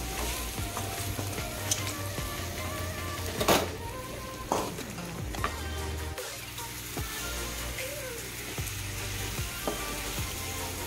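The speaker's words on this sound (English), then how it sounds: "After adding the lime, give everything a thorough mix." Lime pickle mixture stirred in a pan, a spoon scraping and clinking against the metal over a continuous low sizzle, with a few sharper knocks along the way and no talking.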